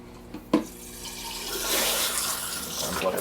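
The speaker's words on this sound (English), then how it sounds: "go ahead and plug in the Rio to fill up the bucket here" A Rio pump fills a 5-gallon bucket with water for a saltwater aquarium water change, a click and splash followed by a steady rising gush of pouring water, close by with no talk.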